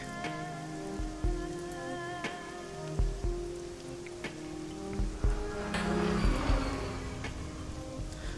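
Steady rain falls on a city street in Hong Kong within the Shadowrun Hong Kong video game, a dense hiss broken by scattered drips and soft knocks, with a vehicle swelling faintly in the background.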